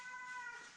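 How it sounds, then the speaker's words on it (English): A single short, drawn-out meow from agitated house cats indoors near a kitchen window, faint and alone. "We got some mad kitties."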